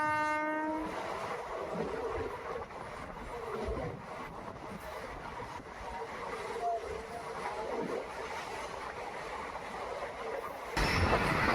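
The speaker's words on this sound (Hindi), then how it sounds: "तो ये ट्रेन बढ़ रही है प्लेटफॉर्म नंबर 1 की तरफ" The Bikaner–Delhi Sarai Rohilla SF Express rolls through Ratangarh Junction toward platform one, opening with a brief horn blast before a continuous heavy rumble and rattle of wheels and cars carry on throughout.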